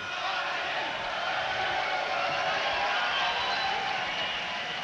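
A hometown boxing crowd in Winnipeg roars and chants in a large arena, a continuous, dense wall of massed voices at steady loudness, distant and reverberant, with no single voice standing out.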